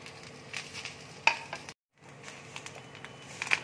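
Dry red chillies and grated coconut frying in a kadai for coconut fish curry, a soft steady sizzle with light stirring scrapes and a couple of sharp utensil clinks, broken by a brief silent gap.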